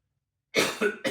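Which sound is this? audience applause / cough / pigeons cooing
cough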